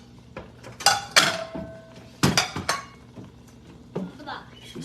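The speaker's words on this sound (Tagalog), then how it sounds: "Kuha tayo ng plato kay magbahog tayo dito." Plates and dishes taken and handled in a home kitchen, several sharp ceramic clinks and clatters close by in irregular bursts, with quieter handling between them.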